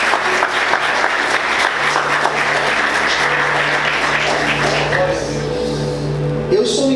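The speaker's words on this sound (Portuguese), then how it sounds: "Aplauda Jesus bem forte" Church congregation applauding loudly and steadily at a sermon on Jesus and the adulterous woman, dense crowd clapping sustained throughout with voices mixed in.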